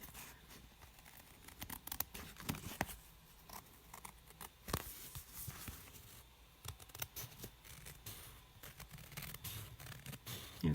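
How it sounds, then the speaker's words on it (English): Scissors cutting paper for a Stampin' Up! envelope book, a faint close run of snips and paper scrapes with irregular crisp clicks, quiet and without talk. "I've got the scissor open and I'm moving the project and I'm closing the scissor at the same time"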